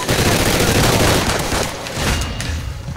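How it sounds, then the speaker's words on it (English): Dense, continuous minigun fire roars loud and close in the Call of Duty: Ghosts video game, a sustained rattling barrage with heavy booming undertones. "I got a minigun!"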